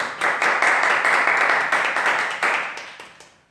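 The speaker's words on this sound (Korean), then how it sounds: "우리 정희수 집사님 힘내시라고 박수 한번 쳐드릴까요?" Congregation clapping in a church during a Sunday service, a dense burst of hand claps that swells quickly, holds steady for a few seconds, then tapers off.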